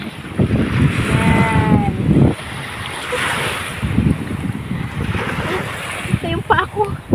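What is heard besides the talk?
strong sea waves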